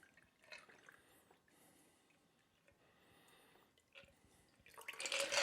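A cocktail is poured through a julep strainer held over a glass of ice, giving a faint trickle and drip of liquid that swells into a louder splashing stream at the end.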